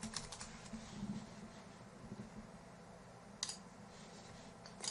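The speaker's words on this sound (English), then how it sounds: "So we'll go to the Start menu and type regedit." Typing on a computer keyboard in a quiet room: a faint run of soft key clicks with a few sharper taps, no voices.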